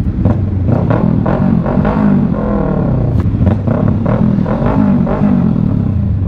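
Loud, close motorcycle exhaust revving in repeated bursts, a deep rumble pulsing over a steady engine drone.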